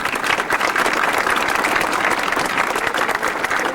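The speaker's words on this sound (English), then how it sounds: "So let's give them a great round of applause." Applause for the graduating class at a 1996 St. Charles High School graduation ceremony, a large audience clapping steadily and loudly throughout, dense and continuous.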